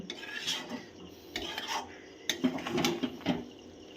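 Jujube (kul) pickle being stirred in a pan after sugar is added, with a spoon scraping and clinking against the metal in short irregular strokes, close and clear, no voices.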